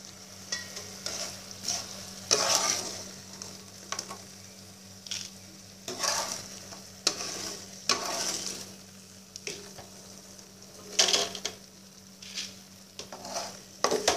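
French fries deep-frying in hot oil give a steady close sizzle and crackle, broken by bursts of louder bubbling and stirring every second or so, with no talking.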